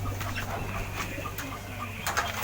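A pet pigeon or dove close by gives soft, low cooing calls over a steady background hum, with a few sharper sounds breaking in near the end.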